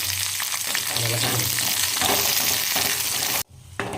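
Cashews and raisins fry in ghee for ghee rice, with a loud, close, continuous sizzle and occasional light stirring. Near the end it abruptly drops to near silence, then faintly resumes.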